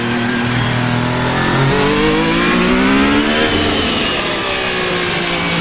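A Ferrari F1-75 from 2022 revs hard in Assetto Corsa, its loud high-pitched engine whine climbing and dipping through a gear change, continuous and close with no voices.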